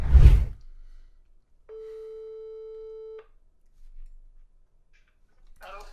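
A telephone line rings once during a business cold call: a single steady electronic tone lasting about a second and a half, clean and close, preceded by a brief thump and followed by near silence and a faint voice.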